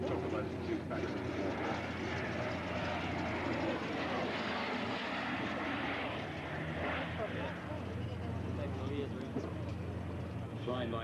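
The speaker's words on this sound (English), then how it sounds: "Flying by two ex-RNZAF Skyhawk pilots, Chris Hutchison, and local Wanaka boy Rob F" An ex-RNZAF A-4 Skyhawk jet roars past at a Wanaka airshow, a sustained, loud engine rumble that fills the scene, with an announcer talking over it.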